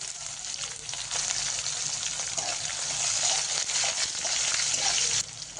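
Cumin, mustard seeds, curry leaves and finely chopped green chili hit hot oil in a pan and sizzle loudly and steadily, a close, continuous hiss that cuts off abruptly near the end.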